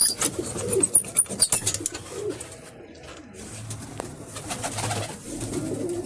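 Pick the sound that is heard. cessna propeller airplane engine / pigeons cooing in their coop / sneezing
pigeons cooing in their coop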